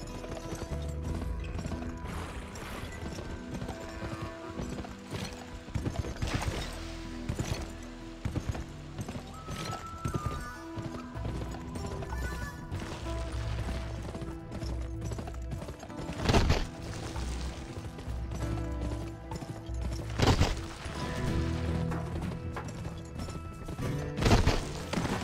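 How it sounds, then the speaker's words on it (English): Horses clip-clopping at a gallop in a video game horse race, a steady run of hoofbeats with occasional whinnies and loud game effects layered over busy background music. "Ought to be able to whip me in a horse race."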